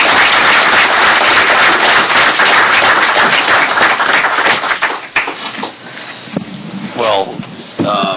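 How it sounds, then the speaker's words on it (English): Audience applause at a Town of Rye council meeting, a dense, loud wash of many hands clapping at once that thins out and fades into scattered claps toward the end. "let's have a round of applause"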